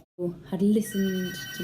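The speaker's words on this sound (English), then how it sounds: "Oh, that's the phone." A telephone rings in a home during a televised dinner party, its tone buzzing under close, overlapping conversation.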